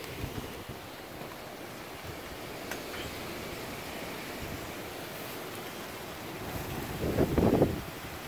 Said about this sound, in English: Probably winds approaching 40 miles an hour. Winds gusting 50 at times.